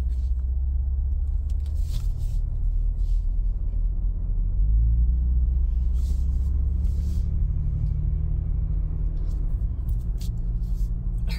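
2023 Ford Bronco Raptor engine rumbling steadily at low speed in drive while turning around, a continuous close low drone with a slight swell midway and no talk.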